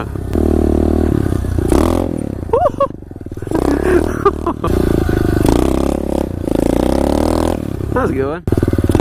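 A Suzuki-style SSR 125 pit bike engine revs loudly during uphill wheelies in a backyard, the note rising and falling and bogging down in uneven bursts, with people talking over it.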